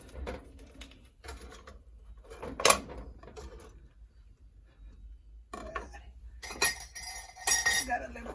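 A spoon scoops out the inside of a pear in a kitchen. Close, light scraping and clinking comes in short irregular bursts, with quiet pauses between them.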